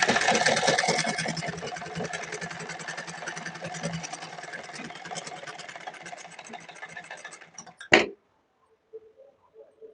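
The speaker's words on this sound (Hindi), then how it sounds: "1/2 इंच का हम मार्जिन रखते हुए सिलाई लगा रहे हैं।" A sewing machine runs steadily as it stitches a pleat on a party wear blouse with a half-inch margin, a close, rapid mechanical whir for about eight seconds that stops with a sharp clunk, followed by near silence.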